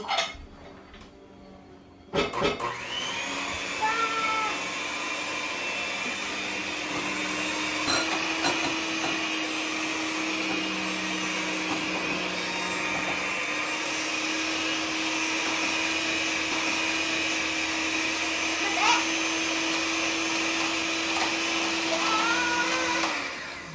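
A kitchen mixer whirring steadily through cookie dough with butterscotch chips, a loud continuous motorized drone lasting many seconds after a brief switch-on, with faint clinks.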